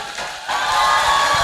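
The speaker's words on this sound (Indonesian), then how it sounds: "Wow, tepuk tangan" Applause and cheering from a crowd of older women at a humorous Islamic sermon in Indonesia, a steady broad clatter that swells louder after the first half-second and carries on evenly.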